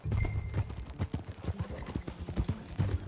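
In Red Dead Redemption 2, horse hooves clip-clop in a steady walking rhythm, fairly faint, with brief voices and ambient outdoor sounds around them.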